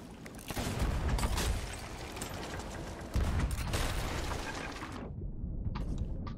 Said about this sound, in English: That cannon is hammering into him.